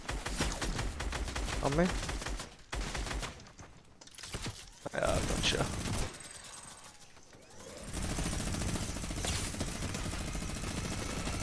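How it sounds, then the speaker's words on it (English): A minigun in Fortnite fires in long, dense bursts of rapid shots, loud and close, broken by brief pauses, with people talking over the gunfire now and then. "I got a minigun."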